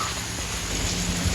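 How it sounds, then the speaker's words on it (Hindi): Heavy monsoon rain pours steadily at a brick kiln, a dense, loud, continuous hiss with a low rumble underneath and no voices. "बारिश तेज हो गई।"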